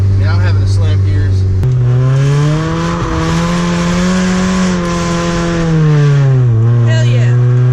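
A car with a Honda H22 engine revs hard while gears are slammed through a worn pressure plate, a loud steady engine drone that drops abruptly, then rises and falls in pitch with a clunk between shifts.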